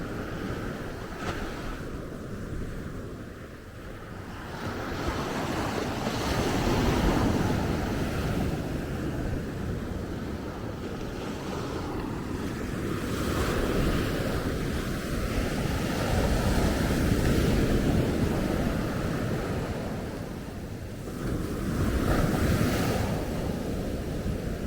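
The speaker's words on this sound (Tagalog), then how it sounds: "Naririnig niyo ba yung tunog ng alon?" Ocean surf breaking continuously on a Zambales beach, a steady broad wash of waves swelling and easing with wind buffeting the microphone, no voices.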